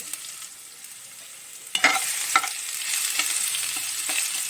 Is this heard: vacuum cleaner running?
no